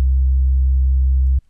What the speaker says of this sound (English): It's a good sine wave